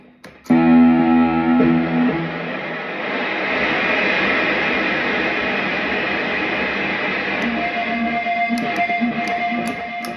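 A distorted electric guitar chord rings out, then with the noise suppressor disengaged a loud, steady hiss and buzz of amp noise takes over and drones on continuously.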